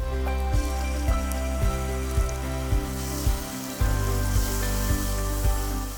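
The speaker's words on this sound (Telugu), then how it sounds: "ఇప్పుడు మనం 1 కప్పు చింతపండు పులుపు అయితే యాడ్ చేసుకుందాం." Tamarind juice hits a hot pan of egg masala curry, giving a loud, steady sizzle and crackle with regular dull thumps pulsing beneath it, no voices.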